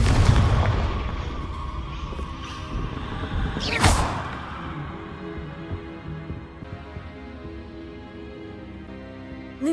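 A Confringo fire spell blasts in the Hogwarts Legacy video game. A heavy rumble opens the clip, a sharp whooshing burst hits near the middle, and a long fading tail follows with ringing tones.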